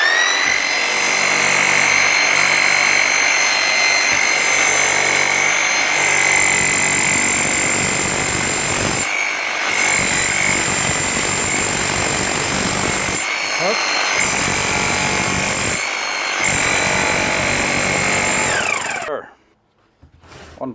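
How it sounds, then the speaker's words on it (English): A freshly serviced Bosch GSH 5 CE demolition hammer with new bearings, brushes, oil and seals runs loud and close, a dense steady hammering roar with a high motor whine, briefly pausing a few times before stopping near the end. "One Bosch hammer, fully serviced, ready to work."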